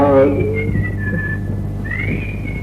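A person whistles a wavering, sustained tune in a domestic comedy scene, the clear tone sliding and holding close to the listener against a steady low hum, with a brief voiced sound at the start.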